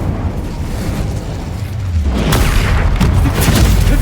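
An Incendio fire spell cast in Hogwarts Legacy: a loud, continuous roaring whoosh of flame with low rumbling booms that swells louder partway through and holds steady to the end.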